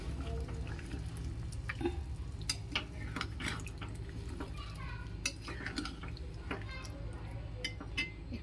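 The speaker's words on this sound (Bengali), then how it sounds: "এরপর আমি একটুখানি কষিয়ে নেব।" Paneer ghugni is stir-fried in a pan over a gas flame: intermittent scraping and light clinks of a spoon against the pan with soft sizzling underneath, close but fairly quiet.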